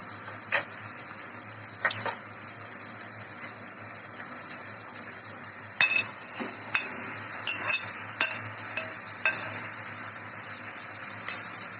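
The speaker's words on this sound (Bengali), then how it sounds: "এখন কচুগুলো মাছের সঙ্গে কষিয়ে নিচ্ছি" Taro pieces sautéing with hilsa fish in a pan, a faint steady sizzle with a bright hiss, broken by occasional stirring scrapes and clinks of a utensil, with no voices.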